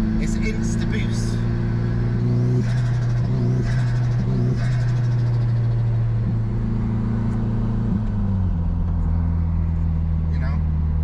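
Turbocharged car engine at about 20% throttle, a loud steady close drone with a low rumble that rises slightly in pitch, heard under someone talking continuously.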